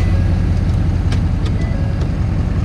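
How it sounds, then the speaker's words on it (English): A truck pulling up at a shop, its engine giving a steady low rumble with a few faint clicks and knocks over it, fairly close and continuous, with no voices. "I'm just gonna pull the truck up here"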